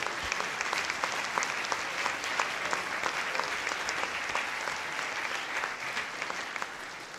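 An audience at a high school holiday band concert claps for the students, a dense, even round of applause that carries steadily for several seconds, with crisp individual claps standing out.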